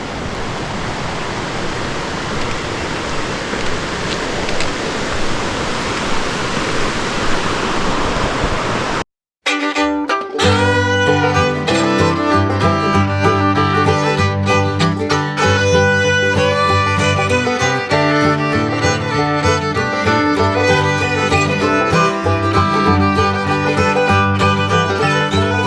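A waterfall along the Appalachian Trail roars as a steady, dense rush of water for about nine seconds, then gives way abruptly to music.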